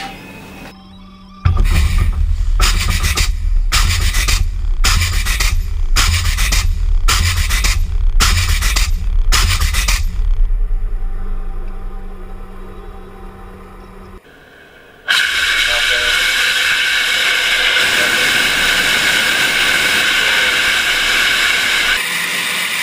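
NASA lunar lander test vehicle firing its thrusters while hovering on a tether, a series of about eight sharp, loud pulsed bursts with heavy low rumble, followed by a fading roar and then a broad steady hiss of venting.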